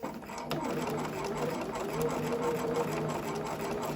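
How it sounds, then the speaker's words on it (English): A sewing machine runs steadily, its needle whirring in a fast, even rhythm as it stitches fabric close by. "I'm going to stitch all the way around"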